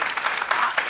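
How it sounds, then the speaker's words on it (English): A morning TV show's studio audience claps, a short, fairly loud burst of dense applause lasting under a second. "round of applause for our therapists this morning."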